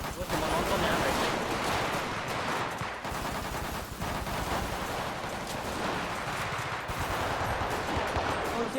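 Rapid bursts of gunfire from a Gundam video game, loud and continuous machine-gun style volleys filling the clip, with players talking intermittently underneath.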